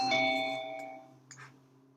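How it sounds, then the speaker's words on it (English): Online meeting entry chimes ring as participants join a class session, a cluster of bright electronic ding-dong tones layered over one another and fading out, with a softer second chime near the end. "That is a lot of entry chimes."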